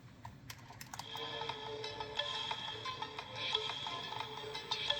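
A Sony TCM-77V cassette Walkman plays the blank side of a tape, giving a soft mechanical whir with faint ticks and clicks from the transport.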